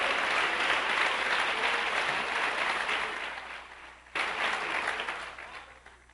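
A church congregation claps steadily and loudly, the applause thinning briefly before swelling again and carrying on.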